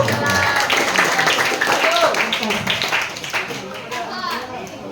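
Students at a school outreach event clap in a crowded room while children talk and call out over the sustained, fairly close applause.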